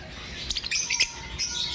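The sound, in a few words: bird chirping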